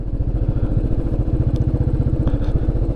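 A cruiser bike on a rough, unfinished mountain road in Nepal throbs with a steady low, loud engine pulse, close up, with brief faint clicks and no talk.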